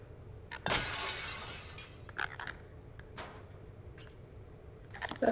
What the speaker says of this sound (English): We should make a lot of noise by throwing the glass.